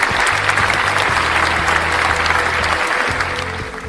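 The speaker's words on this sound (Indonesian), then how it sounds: "mari kita berikan tepuk tangan yang meriah untuk pemateri-pemateri kita yang hebat" Seminar attendees clap warmly for the presenters of an accounting seminar, brisk dense applause that fades slightly near the end, with faint background tones.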